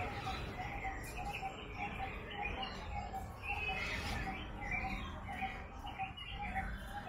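Parrots and other birds call steadily from a guava tree laden with fruit in a garden, chirps and coos overlapping in a dense, continuous chorus at moderate distance.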